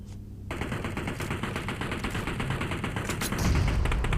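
Automatic gunfire from the shooter game PUBG Mobile, with a sustained rapid burst of shots starting after a short pause and continuing loudly to the end.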